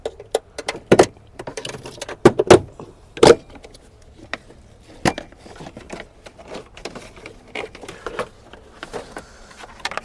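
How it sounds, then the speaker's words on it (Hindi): Fittings are being undone on a Ford EcoSport engine that cuts out on its own, making irregular sharp metallic clicks, taps and clinks close up, some louder than others, over a quiet background. "साथियों फिटिंग इसकी हम खोल रहे हैं, सारी की सारी फिटिंग ओपन कर रहे हैं।"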